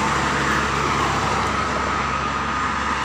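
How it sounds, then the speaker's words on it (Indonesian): Goodwill and Laju Prima intercity buses rush past on the Trans Java toll road in the rain, a dense, steady roar of engines and tyres on wet pavement that stays loud and unbroken throughout. "Tampaknya ini ada bus Goodwill Tegal Jawa Bandung dan Laju Prima bus Trans Jawa."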